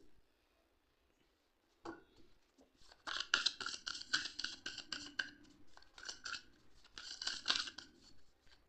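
Tarot cards are shuffled and drawn from a deck close up, with crisp papery riffles and flicks arriving in quick clusters after a quiet start and no speech.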